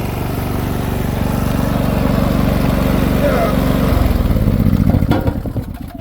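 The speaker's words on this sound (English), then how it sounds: "you're going to hear my generator running" A portable generator running nearby with a loud, steady low engine drone that holds for several seconds before its sound shifts and starts to drop away near the end, with a voice speaking over it.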